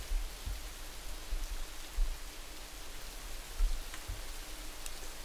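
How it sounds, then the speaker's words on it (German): Steady hiss of heavy rain in the Rising World video game, a constant wash of noise with faint low thumps scattered through it, quiet and even, with no voices. "Boah, der Regen ist aber stark."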